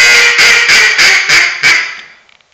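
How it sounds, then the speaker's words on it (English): A waterfowl duck call blown close and loud, producing a descending series of six raspy quacks in an even cadence that tapers off at the end, with no voices. "Now through the call. And all I'm saying is quack, quack, quack, quack, quack, quack."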